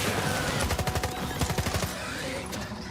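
Assault rifle from the STALKER 2 video game firing in rapid automatic bursts, a fast rattling string of shots close up, then fading into a short tail.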